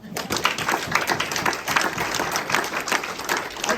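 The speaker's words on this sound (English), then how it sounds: "So round of applause for Marilyn." Audience at a community book event gives a round of applause, a lively patter of individual claps close by, fairly steady for a few seconds with uneven peaks.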